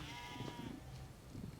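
A goat bleats in The Simpsons: Tapped Out petting zoo, a short wavering cry at the start followed by softer animal murmurs, faint and alone without talk.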